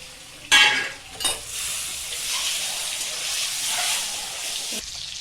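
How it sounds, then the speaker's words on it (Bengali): Eggs fry in hot oil with turmeric and salt in a pan, making a steady close sizzle and hiss, opened by a couple of sharp stirring clatters. "বন্ধুরা আমার ডিমগুলো ভাজা হয়ে গেছে,"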